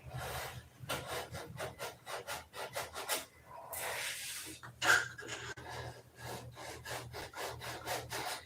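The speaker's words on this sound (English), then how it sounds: "as soon as I get this detail sanded, we'll shoot some silver gray on it" Hand sanding a small detail on a P-47 scale model, a steady series of rhythmic scratchy rubbing strokes, close and fairly quiet, repeating throughout with a brief louder pass midway and no talk.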